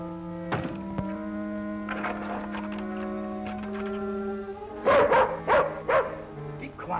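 A dog barks in a short burst of several close, sharp yips near the end, heard over a steady bed of music in an old 1950s western radio drama.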